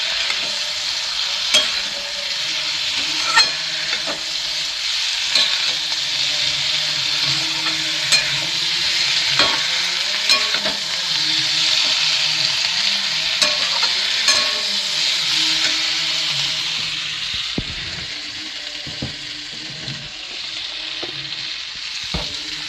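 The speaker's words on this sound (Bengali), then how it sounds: "এরকম ভালোভাবে নেড়ে নিতে হবে" Flat beans fry in a pan while being stirred, giving a steady close sizzle broken by repeated scraping and clinking strokes of the spoon throughout.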